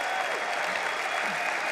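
Conference crowd applauding at a political policy gathering, a dense, steady wash of clapping from many hands filling the hall evenly throughout, with no voices over it.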